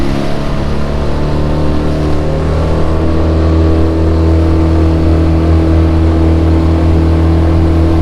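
A crabbing boat's outboard motor drones loudly and steadily while the boat runs up a river in South Carolina, a close, continuous engine hum with no voices heard.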